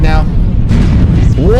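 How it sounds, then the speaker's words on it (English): Deep rumbling airstrike explosions boom loudly in Mechwarrior Online, a sustained low roar lasting the whole moment, with a voice briefly audible over it. "Launching airstrike now."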